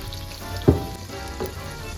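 Ground red chilli and ground coriander frying in oil for the masala of Nargisi koftay, a low steady sizzle with a couple of brief stirring scrapes, close and moderately quiet, no talking.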